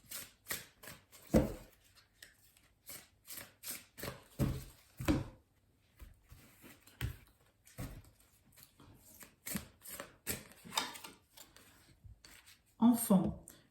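Oracle fairy cards being shuffled by hand for a card reading, a run of quick papery riffles and rubs in close bursts with short pauses between them, sometimes with soft handling knocks.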